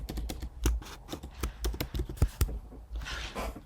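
Someone types a shell command at a computer keyboard, a quick, irregular run of close, crisp key clicks followed by a brief softer scuffle at the end, with no voices.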